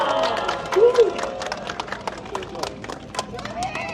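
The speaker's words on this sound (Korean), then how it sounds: "추미애 의원을 큰 박수로 모시겠습니다" At an outdoor campaign rally in the plaza at Cheongnyangni Station, a crowd gives scattered claps and cheers to welcome lawmaker Choo Mi-ae, the clapping sparse and broken beneath amplified voices and crowd chatter.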